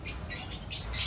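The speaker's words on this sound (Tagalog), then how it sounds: "Oh, ito Yung mga dalawang ibon na yan." Racing pigeons of Verbruggen and Cosmos bloodlines give short squawking calls in a loft, several brief close bursts over a steady background hiss.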